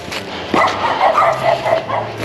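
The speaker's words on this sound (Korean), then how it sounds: "개가 한두 마리 이렇게 오면 되는데, 이 사라운드로 이래 짖어 보면, 곤란하네." Several dogs bark and yip together at a rural plot of residential land in Seongju, Korea, a loud, busy chorus of overlapping barks starting after a quiet half second and continuing steadily.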